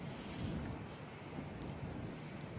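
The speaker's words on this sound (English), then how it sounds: "You can see the wind there really gusting straight into the teeth of these players" Wind gusts across a seaside golf course at Cape Schanck, buffeting the microphone with a low, rumbling roar that swells and eases slightly, steady throughout, with no voices.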